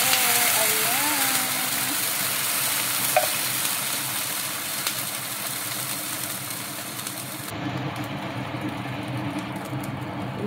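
Mackerel sardines sizzle and fry in a pan while being stirred, a steady dense crackle with faint scraping, a low hum beneath and a change in tone partway through, no talk.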